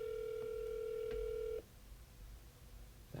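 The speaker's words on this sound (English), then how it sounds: "hearing dial tone" A steady telephone dial tone hums for about a second and a half, then cuts off, leaving faint line noise.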